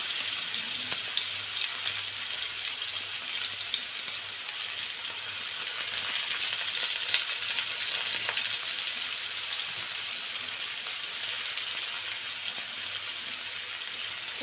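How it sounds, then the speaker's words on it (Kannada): Onions frying in hot oil in a pan for an aloo bhindi dish, a steady, dense sizzle and crackle throughout, close and continuous, with no talking. "ಈರುಳ್ಳಿ ಹಾಕೋತಾ ಇದ್ದೀನಿ."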